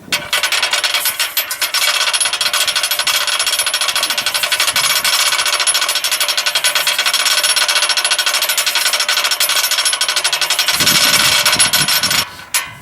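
A handle turns a boat hoist winch on a 2013 V6000 boat hoist, giving a loud, continuous rapid ratcheting clatter as the cable winds, which stops abruptly near the end.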